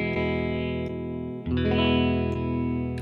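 An electric guitar strummed through a Line 6 POD Express gives sustained, distorted chords with chorus shimmer, a short break, then a fresh strum ringing out loud and close.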